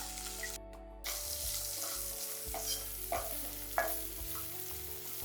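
Garlic, dried red chillies and salt sauté in a pan for tomato rasam, giving a steady close sizzle with occasional scraping stirs and small spatula knocks, with no talking.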